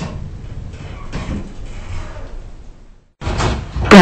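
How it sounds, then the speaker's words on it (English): Hotel lift doors in the Roblox game slide shut with a steady rolling rush that stops abruptly, followed after a short silence by a loud clunk and thud as they meet. "Doors closing."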